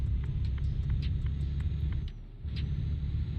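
Road traffic in the Euro Truck Simulator 2 video game on a St Petersburg to Warsaw haul: a steady low engine rumble from the truck with passing vehicles, close and continuous, a few faint clicks over it.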